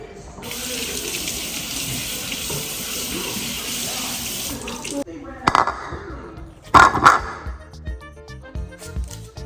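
Water runs steadily from a kitchen tap as an apple is washed, a continuous splashing hiss that cuts off midway, followed by clinks and handling noises while people talk.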